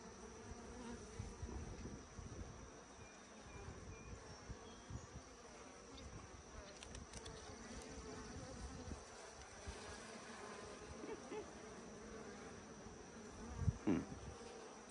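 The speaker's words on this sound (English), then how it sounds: "You could certainly work these bees today with nothing more than a veil." Honeybees buzzing around an opened backyard beehive, a steady close swarm hum with individual bees droning past, near and continuous, with no talking.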